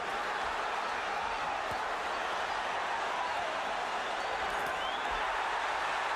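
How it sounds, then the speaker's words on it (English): Boxing crowd at the Julio Cesar Chavez vs. Oscar De La Hoya II WBC title fight roaring as Chavez lands a punch, a dense, steady wall of cheering and shouting that holds at one level throughout. "The Chavez element of the crowd loving it when their man connects"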